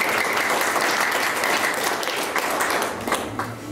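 Guests at a marriage proposal celebration applaud together, a brisk burst of close clapping that tapers off near the end as a voice begins.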